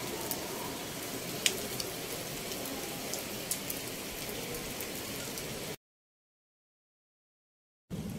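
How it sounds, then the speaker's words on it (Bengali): Heavy rain pours steadily outdoors during a barbecue, a dense even hiss with occasional sharper drops, then cuts to silence for about two seconds before the rain returns. "কিন্তু বৃষ্টি পড়ছে প্রচুর।"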